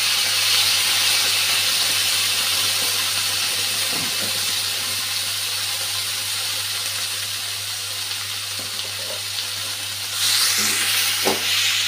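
Tomatoes and green chili sizzle in hot oil in a pan that was first tempered with dried red chili, making a steady, loud hiss throughout that briefly gets brighter near the end.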